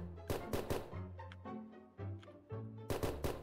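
Gunfire in the video game Mean Beans, several sharp bursts of shots near the start and again at the end, with tonal game sounds between them.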